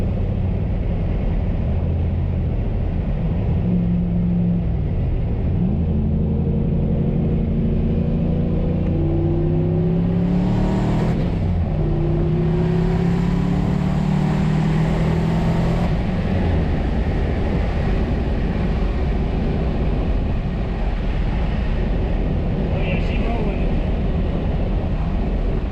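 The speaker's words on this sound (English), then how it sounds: "Trying to do a little pull here and see what the car does." A car running on E85 fuel makes a wide-open-throttle pull, its engine note sweeping up steadily through the gears with loud, continuous road and wind roar, close and dominant, and no talk.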